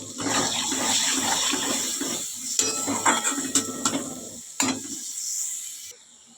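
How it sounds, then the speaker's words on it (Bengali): Water poured into spice paste frying in oil hisses and sizzles, a dense crackling wash with sharper pops and clicks scattered through, ending abruptly into quiet. "সামান্য একটু জল দিয়ে দিচ্ছি"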